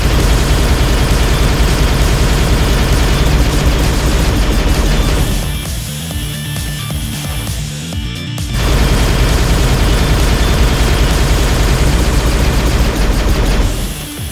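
Plasma Repeater from Halo Reach fires in a dense, rapid stream at roughly 620 rounds per minute, loud and close, easing into a quieter stretch midway before the heavy barrage resumes until the end.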